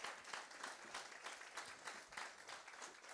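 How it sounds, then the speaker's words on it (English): Faint, distant applause from the audience at an entrepreneurs' event in Motherwell, with irregular claps sustained evenly throughout and no talk over it. "Give yourselves a round of applause."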